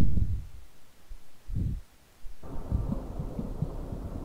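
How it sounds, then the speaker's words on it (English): Deep, muffled heartbeat thumps from the video game Depth, a few slow throbbing pulses near and loud, then giving way to a dense low rumbling drone. "I could hear the heartbeat."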